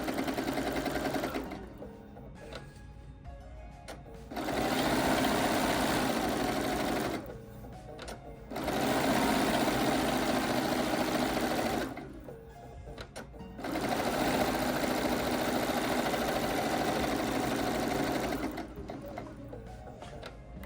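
A sewing machine top stitches along the top edge of fabric on an advent calendar panel, running in three steady loud bursts with short pauses between, the motor's even whir and needle clatter close and alone.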